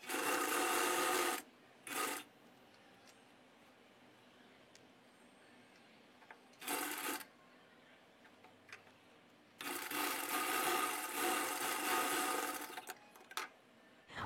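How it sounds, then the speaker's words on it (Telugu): A sewing machine stitches a princess cut blouse in short bursts, with a brief run, two quick spurts, then a longer continuous stretch of rapid needle chatter separated by quiet pauses. "మళ్ళీ రెండో వైపు కూడా సేమ్ అదే రకంగా స్టిచ్చింగ్ చేసేసుకోండి."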